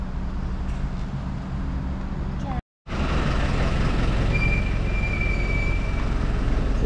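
Shuttle tram at the Hilton Phuket Arcadia Resort carrying guests across the grounds toward the beach, a loud, continuous close rumble of the moving vehicle that cuts out for a moment and then resumes.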